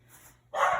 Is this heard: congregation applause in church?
no